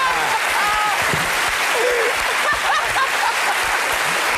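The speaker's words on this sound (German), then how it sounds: "Ja, Sie können klatschen." Studio audience applause on a German television panel show, a dense, loud, continuous roar of clapping filling the whole stretch, with faint voices audible underneath.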